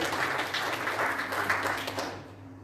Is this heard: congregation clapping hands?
yes